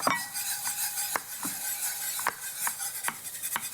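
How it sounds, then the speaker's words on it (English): A whisk works milk into a cheese sauce for lasagna in a pot, rhythmic metallic scraping and clinks against the pan repeating every half second or so, close and clear without talk. "slowly incorporate the milk while you're whisking"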